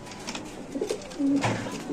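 Large pigeons give low, throaty coos while being handled, close and moderately loud, with a few short calls and light rustling between them.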